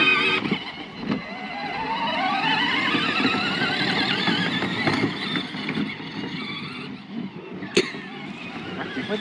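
A modified Hypertoy UTV-900 ride-on toy vehicle drives around a farm with a steady electric motor whine that rises and falls, plus occasional bumps and clicks, moderately close throughout.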